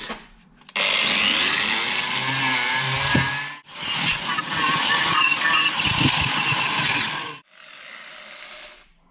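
Power tool cutting rotten steel from the body of a Mk3 Vauxhall Cavalier 2.0, a loud rasping grind running in two long bursts separated by short pauses, then a quieter tail.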